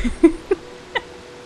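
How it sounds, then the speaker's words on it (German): A cat in the video game Stray gives three short, high-pitched meows or chirps spaced apart over a quiet background, each brief and fairly close. "oh, eine Katze."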